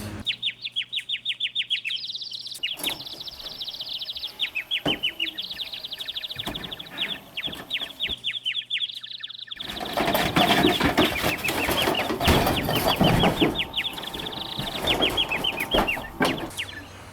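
A chicken or rooster clucks and chirps in rapid repeated bursts, loud and near; partway through a broad noisy rustle rises beneath the continuing calls.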